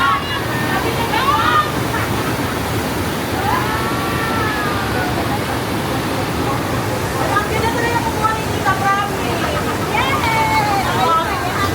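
Strong rushing water from a waterfall near a cave in Iligan City, Lanao del Norte, Philippines, giving a steady, loud, broadband roar while several people talk over it.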